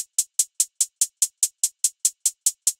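Fourteen bright, crisp hi-hat ticks in a steady, evenly spaced two-step pattern from a hip-hop beat, each short and clean against silence, with no talking.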